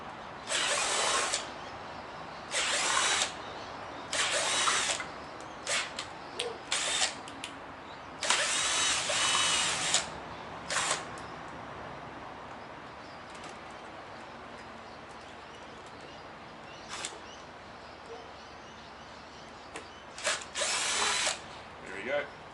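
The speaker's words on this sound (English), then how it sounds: "We need to drill them out." A power drill boring out fixings inside a shed, several whirring bursts of a few seconds each with pauses between them and a final burst near the end, close and loud, with quiet background sounds in the gaps.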